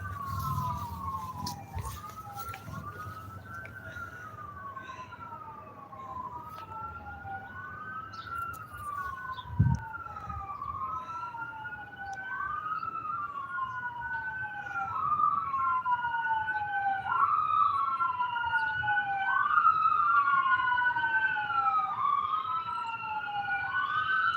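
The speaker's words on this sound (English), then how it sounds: "it's an ambulance" An ambulance siren wails in repeating rising sweeps, fairly distant at first and growing louder and closer over the course of the recording.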